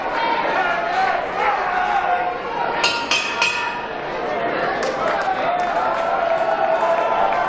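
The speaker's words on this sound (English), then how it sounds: "He has his cheering section." A wrestling crowd cheers for John McChesney at an IWC event near Erie, Pennsylvania. Steady crowd roar and chatter with a few clinks run beneath a commentator's voice.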